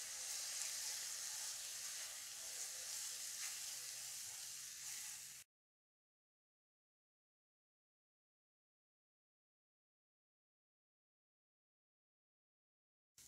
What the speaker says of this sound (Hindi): अब इसको भी हल्का सा भूनेंगे।